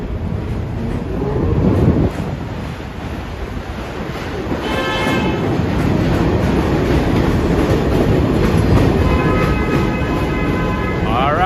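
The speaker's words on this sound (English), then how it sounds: "Does it sound like a train that you want to see?" A New York City train rumbles past loudly and close in Astoria, Queens, with a continuous roar of wheels on rails and faint clattering and squealing tones.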